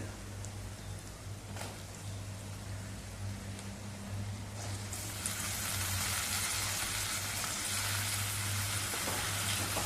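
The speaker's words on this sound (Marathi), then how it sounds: "आता मिनिटभर तेलावरती बटाट्याच्या फोडी चांगल्या परतवून घेतलेले." Potato pieces sizzling and frying in hot oil tempering on a stove, a steady close crackle that grows denser and louder midway through, with a low hum underneath.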